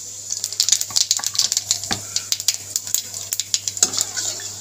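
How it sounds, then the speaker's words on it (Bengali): Nigella seeds crackle and spit in hot mustard oil left from frying fish, a dense run of sharp pops and sizzles close by, with occasional stirring scrapes. "মাছ ভাজা গরম তেলের মধ্যে ফোড়ন দিয়ে দেবো কালো জিরে।"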